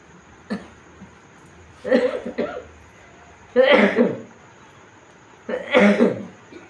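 Several separate coughs, one short and then three harsher bursts, close and loud with quiet pauses between.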